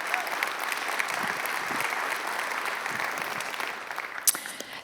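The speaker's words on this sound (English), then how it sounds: "So let's give them a round of applause" A crowd at the Western Conservative Summit 2023 applauds steadily and fairly loudly for the full stretch, a dense wash of clapping with one sharper clap standing out near the end.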